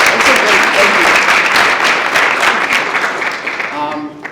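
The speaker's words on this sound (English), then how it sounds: "Can we give them a round of applause?" An audience at a realtors' training event applauds the lunch crew with a loud, dense burst of clapping that tapers off over a few seconds, with a voice speaking briefly as it fades.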